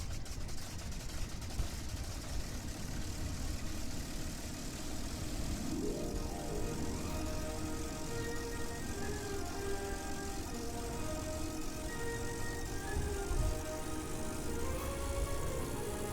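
A propeller plane engine in Kerbal Space Program drones steadily and loudly throughout its takeoff run, with the pitch climbing as it speeds up, and no talking.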